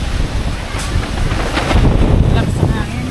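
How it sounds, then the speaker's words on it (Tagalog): Strong wind buffets the microphone outdoors beside a street vendor's stall in front of a house, making a steady, loud, rumbling roar with gusts for the whole stretch. "Lakas ng hangin."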